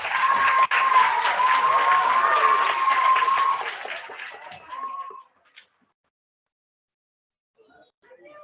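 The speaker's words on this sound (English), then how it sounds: "let's give all them a big round of applause" Audience applause at a kindergarten awards assembly: crowd clapping with children's cheering and squeals for about five seconds, then fading to near silence.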